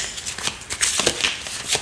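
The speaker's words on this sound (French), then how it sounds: "Donc, je rebats les cartes." Tarot cards are shuffled by hand in quick, close riffling bursts, a rapid papery flutter and slap repeating over a couple of seconds with no voices.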